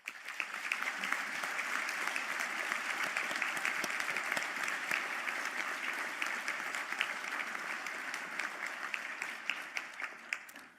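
A large audience at a Galway university conferring ceremony applauds the graduates with dense, steady clapping that holds at an even level for the full stretch, then fades at the very end.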